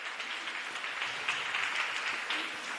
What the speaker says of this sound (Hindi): जोरदार तालियां मैम के लिए।